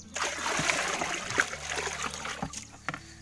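A homemade plant-fertilizer mixture is stirred into a tub of water, making soft, irregular splashes and sloshing at close range with a few sharper slaps.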